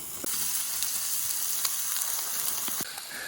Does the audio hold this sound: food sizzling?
yes